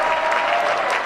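An excited crowd at a Republican Jewish Coalition event in Las Vegas applauds loudly and continuously in a brief, dense burst of clapping.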